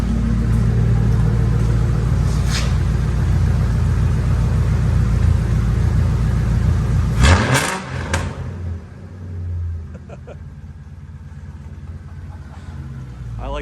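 Police car engine idling with a deep rumble, then a quick rev that rises sharply and drops away, leaving a quieter idle and faint mechanical clicks nearby.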